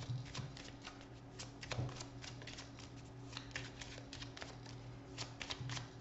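Cigano (Lenormand) fortune-telling cards shuffled by hand in a steady run of quiet riffling flicks and soft slaps, close up and without speech.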